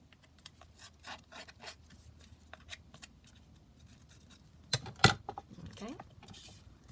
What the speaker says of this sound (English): I'm just going to rough around the edge of the kind of base piece as well